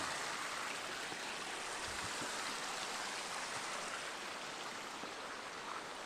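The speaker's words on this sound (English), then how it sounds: "overflow water comes out of this retaining pond and down here and back into the creek" Steady broadband rush of overflow water from a retaining pond running down into a creek, continuous and fairly close, without pause.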